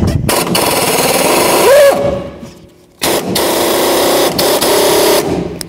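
A power tool with a socket drive spins the top nut on a 1997-2004 Dodge Dakota front shock while the shaft turns in place, giving loud rattling bursts and a brief whine with a pause between runs.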